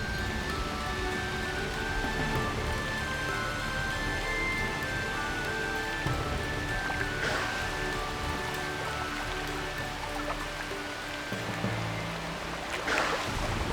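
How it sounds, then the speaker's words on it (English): Heavy monsoon rain pours down in Kaziranga, northeast India, a dense continuous hiss of drops on wet ground and water, with a couple of brief louder splashy bursts near the middle and end. "It has been raining heavily in Kaziranga for the last 3 months."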